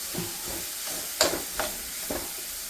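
A cooked thoran of vegetables is stirred in a pan, giving a soft steady sizzle broken by a few distinct scraping strokes of the spoon, close by and without any talk.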